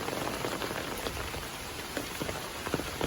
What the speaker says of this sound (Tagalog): Sobrang ulan po dito.